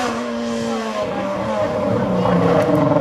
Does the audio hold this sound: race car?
yes